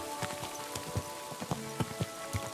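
Rain falling in the medieval video game Kingdom Come: Deliverance 2, faint drops pattering irregularly on surfaces over a soft steady background with low held tones, no voices.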